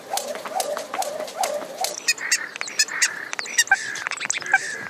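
Birds chirping and singing at the foot of the Sacré-Cœur in Montmartre, Paris, in a city emptied of crowds; repeated bright calls, fairly close, with scattered clicks and no traffic or talk.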